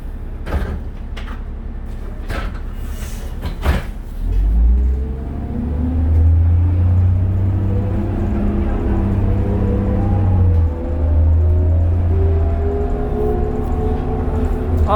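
A 2001 New Flyer D40LF city bus in Calgary: a few sharp clunks as the doors shut, then the diesel engine rumbles and climbs through rising gear whines as the bus pulls away and rides on, steady and close.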